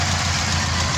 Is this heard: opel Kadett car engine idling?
yes